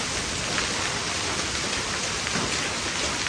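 Heavy rain pours down in a constant, dense hiss, loud and close, with no voices and no break in the downpour.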